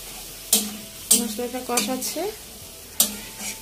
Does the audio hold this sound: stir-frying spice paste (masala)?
yes